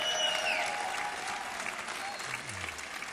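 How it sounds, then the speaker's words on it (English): A full audience applauds steadily at a spring high-school sports award show, a dense, continuous wash of clapping that holds at an even loudness throughout. "Please give yourself a round of applause."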